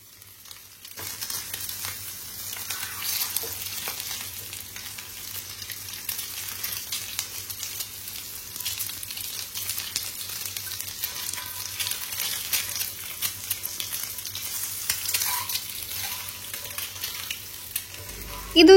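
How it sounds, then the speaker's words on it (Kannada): An egg frying in oil in a pan makes a continuous bright sizzle and hiss, with the gentle rasp of stirring underneath, holding steady for nearly twenty seconds. "ಒಂದು ಸೈಡಲ್ಲಿ ಅದೇ ಪ್ಯಾನಲ್ಲಿ ಒಂದು ಸೈಡಲ್ಲಿ ಎಗ್ ಸ್ವಲ್ಪ ಆಯಿಲ್ ಹಾಕೊಂಡು ಫ್ರೈ ಮಾಡ್ಕೊಳ್ತೀನಿ."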